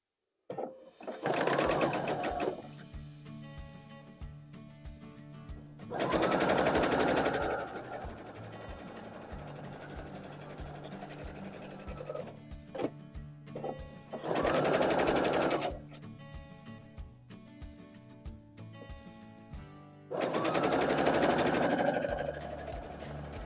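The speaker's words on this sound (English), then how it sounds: "we are going to sew them to the tops of our mushrooms" A sewing machine stitches long strips onto appliquéd mushroom blocks for a quilt center, running in three or four loud bursts of steady rapid whirring with quieter pauses between them.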